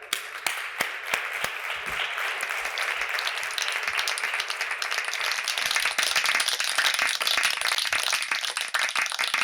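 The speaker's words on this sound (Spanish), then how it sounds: "Un aplauso, por favor, para él." Audience applause at a Spanish corporate event presenting the Best Workplaces 2022 report, steady dense clapping from a crowd sustained for about nine seconds with no talk over it.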